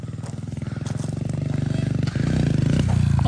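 A pit bike engine revs loudly and close by, its rapid chugging climbing in pitch and intensity, dipping briefly, then pushing harder again near the end.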